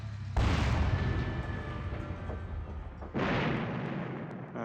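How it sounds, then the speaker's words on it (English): Artillery fire in the video game Final Liberation: Warhammer Epic 40k, two heavy rumbling blasts a few seconds apart, each loud and sustained, with no talking. "Let's try taking some of them out. We've got all this artillery after all."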